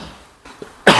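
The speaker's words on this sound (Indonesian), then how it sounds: "sorry teman-teman, batuk dikit ya." A single short, close cough bursts out at the very end after near silence.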